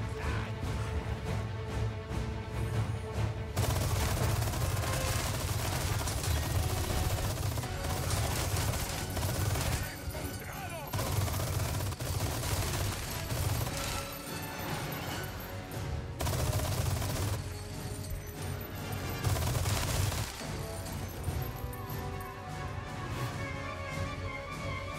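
Mounted gun in Resident Evil 4 Remake firing in long sustained bursts, a dense continuous rattle of rapid shots with brief pauses between volleys, loud and close with no talking over it.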